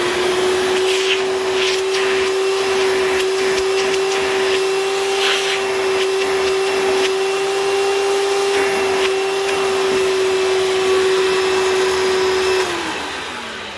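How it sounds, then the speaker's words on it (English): An old commercial direct-air upright vacuum cleaner runs with a steady, loud motor whine and rushing airflow, holding one tone throughout before winding down at the end, with no talking. "As is typical for direct air machine, the suction through the hose is piss poor at best, but, you know, it's an old school upright"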